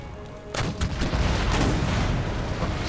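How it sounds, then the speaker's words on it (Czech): Cannon fire during an Empire: Total War battle, a deep booming blast followed by rolling rumble and further crackling detonations, loud and dense. "ta dělová koule se odrazila tady, přeskočila a dopadla za ně"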